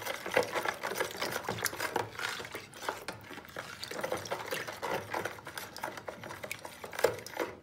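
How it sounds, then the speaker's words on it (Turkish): Sugar is stirred into a dough mixture for Ramadan pide, a quick scraping and clinking of a utensil against a bowl repeating in an uneven rhythm, fairly close and alone. "Tekrardan karıştıralım"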